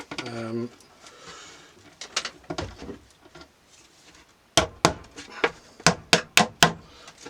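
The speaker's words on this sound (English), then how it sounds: "You hammer it in, it'll get a good fixing at the back" A voice briefly at first, then scattered knocks, followed by a run of sharp, evenly spaced hammer blows driving a rod plug into a 6mm hole drilled in a wall, loud and close.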